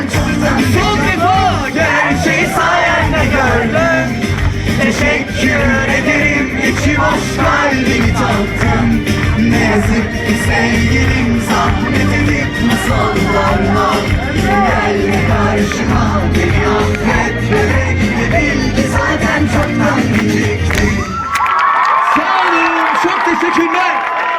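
At a high school graduation ceremony concert, a loud crowd yells, whoops and cheers continuously over amplified music, and the noise cuts off abruptly near the end.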